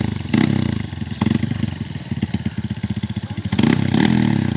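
An overloaded trail motorcycle labours close by, its engine pulsing in a fast, uneven chug as it strains under the rider's weight on a rough off-road track, with brief louder revs.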